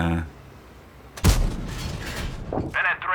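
A tank cannon fires a HEAT shell in the World of Tanks game, a single loud boom with a long rumbling tail, followed by fainter game effects.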